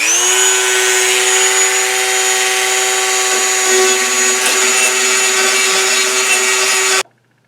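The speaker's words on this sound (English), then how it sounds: "We're taking the Dremel tool and getting as close a fit as we can to these parts." A Dremel rotary tool grinds down Craftsman lawnmower hood parts, a loud, steady high-pitched whine with bright harmonics that runs continuously for about seven seconds before cutting off abruptly.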